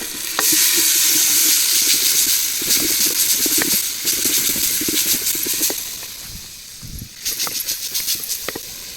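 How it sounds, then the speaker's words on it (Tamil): Garlic and tomato sauté in a hot pan for a pirandai kuzhambu, a close, steady sizzle broken by stirring scrapes and bursts of crackling. "அடுத்தது பூண்டு, தக்காளி போட்டு நல்லா வதக்கணும்."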